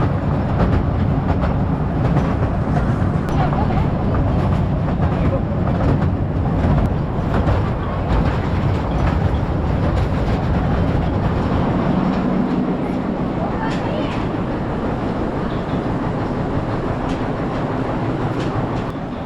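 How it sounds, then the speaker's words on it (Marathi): A toy train carrying visitors at Elephanta Caves rumbles steadily along its track, a continuous loud rolling clatter with rhythmic wheel clicks that lasts throughout, easing slightly toward the end. "ही टॉय ट्रेन आहे, जी तुम्हाला पुढे नेऊन सोडते."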